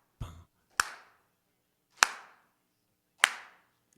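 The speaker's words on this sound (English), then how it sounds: "let's warm our hands up by clapping them" A Sunday church congregation claps in unison, four sharp separate claps spaced roughly a second apart, crisp and close with quiet gaps between.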